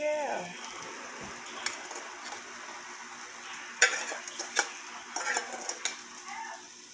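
Egg noodles being tipped into a pan of cooking chicken, with a steady sizzle and scattered clinks and scrapes of a utensil against the pan, close and moderately loud.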